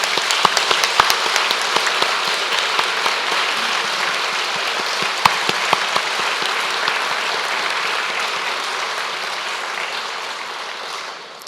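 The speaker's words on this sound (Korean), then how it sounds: "여러분 큰 격려의 박수 보내주시기 바랍니다" Sustained audience applause of encouragement at a medical device regulatory innovation policy announcement event, dense steady clapping from a large crowd lasting throughout and tapering slightly at the end.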